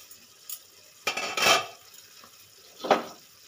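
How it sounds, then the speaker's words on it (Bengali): Lid lifted off a covered pan in which onions, chillies, ginger, garlic and cashews are softening for pepper chicken, with a metallic clink, a brief scrape and clatter, and a later clank, close and moderately loud. "এবার আমি ঢাকাটা খুলে নেব।"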